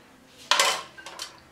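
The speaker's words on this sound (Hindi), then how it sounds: "अब इन सब चीज़ों को अच्छी तरह मिक्स कर लेंगे" Utensils clink and scrape in a bowl while chicken is mixed with cornflour, soy sauce and chili sauce, giving one loud clatter followed by a few lighter knocks, close and alone.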